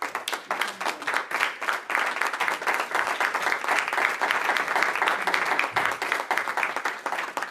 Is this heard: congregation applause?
yes